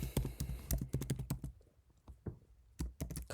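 Code being typed on a computer keyboard in a terminal, bursts of quick close key clicks with a brief lull in the middle, fairly quiet.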